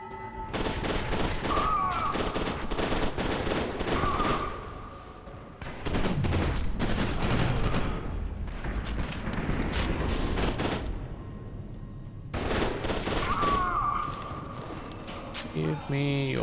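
Bursts of assault rifle fire crackle in the F.E.A.R. 2: Project Origin shooter game, rapid repeated volleys with pauses between them, mixed with other game effects and a voice talking over parts of it.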